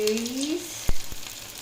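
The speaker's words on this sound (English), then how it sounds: "So now we're gonna fry them." Lumpias frying in hot oil give a steady, soft sizzle, with a whistle-like tone early on and two brief knocks near the middle, with no talking.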